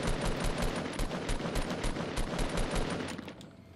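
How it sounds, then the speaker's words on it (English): Loud, rapid gunfire in the Fortnite Battle Royale shooter game, a steady stream of close shots over several seconds before tapering off, with no talking. "I hit him right in the chest with a sniper"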